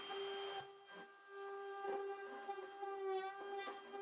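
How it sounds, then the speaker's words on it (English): A router cuts a hole in the middle of a plastic bucket top, making a faint, steady whine with short gritty bursts as the bit bites into the plastic, and no one talks. "you will need to route a hole in the middle of the bucket top"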